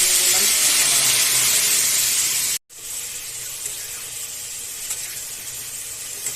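Water poured into a pan of frying taro (mankochu) curry in a home kitchen, giving a loud, steady hissing sizzle that briefly cuts out, then settles into a softer, continuous simmering hiss.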